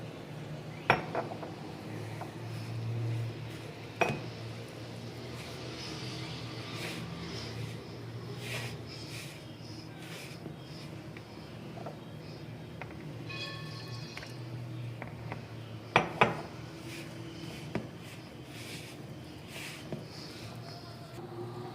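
Milk being added and sweet tikiyan dough mixed by hand in a bowl in a home kitchen, with soft squishing under a steady low background hum and a few sharp clinks of utensils against the bowl.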